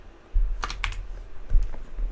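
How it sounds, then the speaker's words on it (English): Rapid keystrokes on a computer keyboard in a quiet room, a few sharp clustered taps over a low steady hum, moderately close and alone with no voices. "keyboard ASMR will be here."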